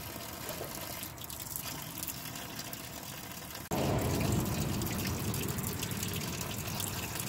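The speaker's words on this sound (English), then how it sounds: "then we're going to flush the cooling system" Water gushes through the cooling system of an '87 Integra during a flush, a steady close-up rushing flow that jumps suddenly louder and fuller about halfway through and continues at that stronger level.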